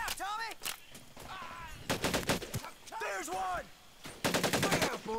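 Gunfire in a Medal of Honor Pacific Assault battle: several rapid bursts of automatic shots spaced across the moment, sharp and close, with other voices and game sounds between the volleys.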